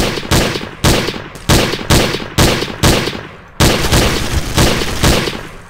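Pistol fire in Garry's Mod Trouble in Terrorist Town, loud single shots spaced about half a second apart, each a sharp crack with a short decaying tail, then a heavier sustained burst of shooting.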